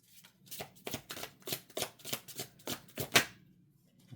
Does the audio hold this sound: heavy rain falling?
no